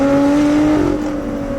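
Lotus Evora GT engine driven hard into a bend with a rev-matched downshift, a loud steady engine drone with strong harmonics swelling briefly mid-clip, heard close from inside the car with no talk.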